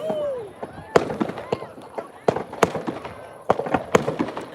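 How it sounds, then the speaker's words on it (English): Fireworks burst over Ventnor after the Ventnor Carnival on the Isle of Wight seafront, with sharp cracks and booms in irregular clusters, some whistling rockets rising, and crowd voices murmuring underneath throughout. "these are the Ventnor fireworks after the Ventnor Carnival"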